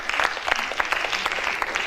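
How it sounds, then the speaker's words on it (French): A school audience applauds a class of high school students after their presentation, an even patter of many hands at moderate level, fairly close, with no speech over it. "je vous demande de tous bien les applaudir, vraiment tous ceux de cette classe"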